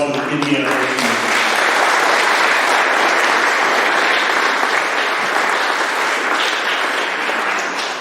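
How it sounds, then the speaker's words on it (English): Applause for the Indiana Arts Commission at a heritage arts award ceremony: a voice trails off, then a full, loud roomful of clapping swells and holds steadily, easing slightly at the end. "Let's give a round of applause for the Indiana Arts Commission."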